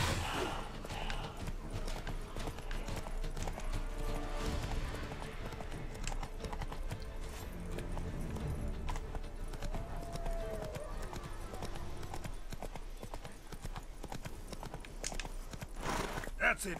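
Horse hooves clip-clop steadily in The Witcher 3: Blood and Wine as the horse walks through an outdoor game area, with a whinny among the footfalls and game sounds in the background.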